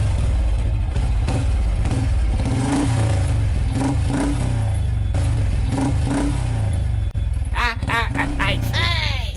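Cartoon motorbike engine starting and revving loudly and continuously, with a low steady drone and rising rev bursts toward the end, heard alone without talk.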